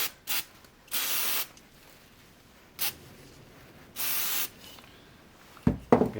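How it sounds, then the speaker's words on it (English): Carburetor cleaner sprays onto a plastic part of a Husqvarna 266/268 chainsaw in short hissing bursts, some brief and some about half a second long, separated by quiet gaps, with a faint clatter at the end. "Carb spray should do the trick."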